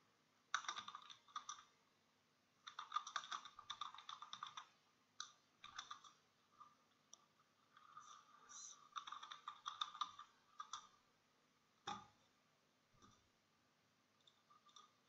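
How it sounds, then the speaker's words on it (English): Typing on a computer keyboard while entering a name into a PayPal account form, with bursts of quiet, close key clicks separated by short pauses and a single sharper tap near the end. "now type your name here"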